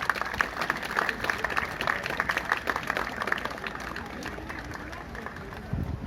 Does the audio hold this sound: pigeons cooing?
no